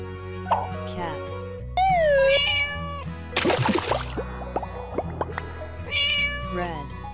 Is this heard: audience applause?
no